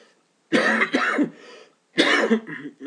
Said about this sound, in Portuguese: A tosse me persegue.